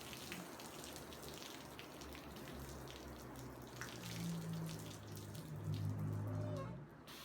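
Free-flowing water runs and splashes over a car panel coated in hydrophobic sealant, a soft steady trickle with scattered droplet patter that grows louder toward the end.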